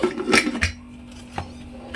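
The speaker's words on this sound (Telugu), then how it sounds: "ఇక్కడైతే కుక్కర్ మూత పెట్టేసుకొని" A pressure cooker lid is set onto the pot during beef paya preparation in a village kitchen, giving a pair of quick close metallic clanks followed by a soft click and then quiet.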